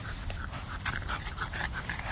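A dog pants quickly and whimpers softly in short high whines, close by, over a steady low background hum.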